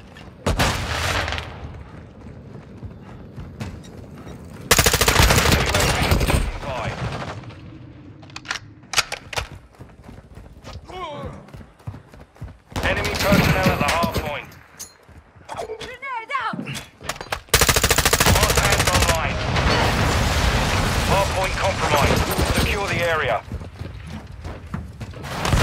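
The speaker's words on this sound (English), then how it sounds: "Taking effective fire!" Loud bursts of automatic gunfire in the video game Modern Warfare 2 erupt in several long stretches, with quieter gaps between them and voices talking over the action.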